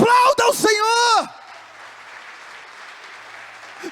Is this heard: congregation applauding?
yes